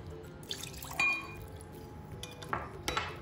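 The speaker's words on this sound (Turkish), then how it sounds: "Biraz daha lezzet katmak için 2-3 yemek kaşığı kadar zeytinyağı ekliyorum." Olive oil drizzled over a baked eggplant and meatball islim kebab in a pan makes quiet, sparse drips and small metallic clinks, with a few soft splashes near the end.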